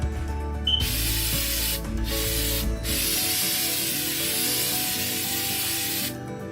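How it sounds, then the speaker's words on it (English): A shaken aerosol can of sealer sprays in long, close, steady hisses, broken by two short pauses and cut off near the end. "to finish this project, we're gonna need the sealer. So let's shake it"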